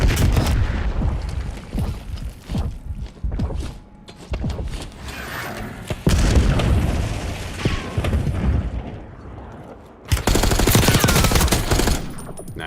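Grenade blasts and rapid gunfire from a Warzone Black Ops 6 firefight: loud, dense bursts of shots and booms that come in waves, with a heavy renewed barrage near the end.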